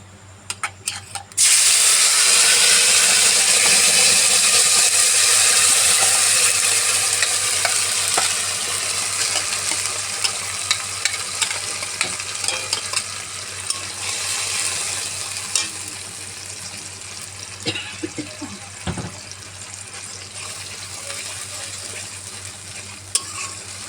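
A ginger and tomato paste goes into hot oil in a pan and bursts into a loud, steady sizzle, with a spoon or spatula stirring it up close as scrapes and clinks over the frying, and no talk.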